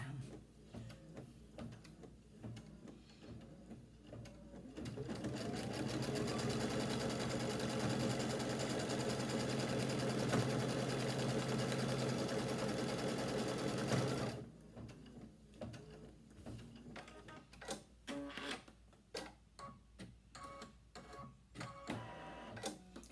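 A sewing machine runs in one long, steady stitching burst for about nine seconds, stitching down folded fabric on a heirloom quilt. Quieter handling clicks and rustling come before and after.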